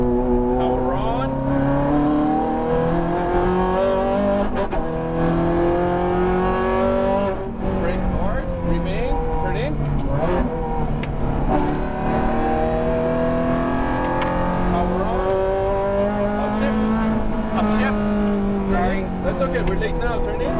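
A Ferrari F430 accelerating hard on a race track, its engine howling steadily with rising and falling revs through gear changes, loud and close throughout, while an instructor talks over it.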